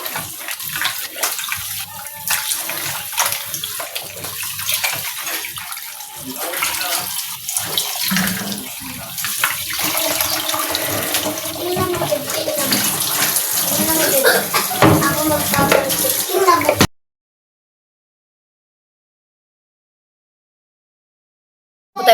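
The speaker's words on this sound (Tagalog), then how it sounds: "Hugasan itong ating karne." Pork is rinsed under a running tap for a pork puchero: a loud, steady gush of water splashing over meat in a sink lasts about seventeen seconds and then stops abruptly into silence.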